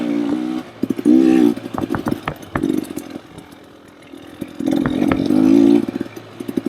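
A KTM or Beta dirt bike ridden on an off-road trail: the close engine rises and falls in short throttle bursts, eases off briefly, then revs up hard again.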